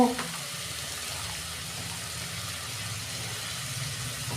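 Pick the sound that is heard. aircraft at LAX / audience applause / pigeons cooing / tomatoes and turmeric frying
tomatoes and turmeric frying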